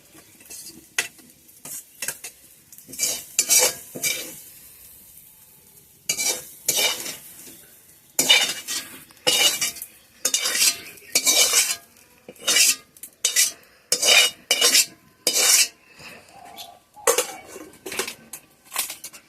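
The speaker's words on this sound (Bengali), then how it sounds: "ডিমগুলো আমার ভাজা হয়ে গেছে, আমি এটা নামিয়ে নেব" Utensil scraping and clinking in a wok while fried eggs are lifted out, sizzling oil beneath, in a home kitchen making egg chicken chowmein; irregular close clatters and scrapes, sparser at first then frequent, with no talk.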